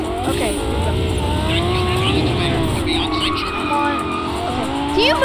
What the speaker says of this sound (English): that car just hit him